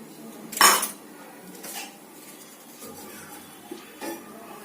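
A spoon mixing desiccated coconut in ghee in a pan on medium heat, with one loud metallic scrape at the start followed by softer clinks and scrapes against the pan.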